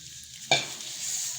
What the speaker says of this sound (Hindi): चमचे की मदद से इसको हम सब मिक्स कर देंगे चीनी को मेवा में।